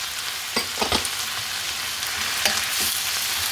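Prawns and bamboo shoots with ginger and garlic sizzle loudly in a hot pan, with a few sharp stirring knocks and scrapes breaking through a continuous hiss.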